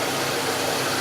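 A classic Jaguar luxury car's engine running, heard as a steady, dense broadband rumble and hiss with no distinct rhythm, continuous and fairly loud throughout with no voices.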